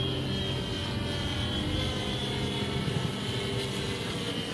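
A contra-rotating propeller model plane drones steadily close by, with a rough, buzzing engine note and a faint high whine layered over it, never fading out.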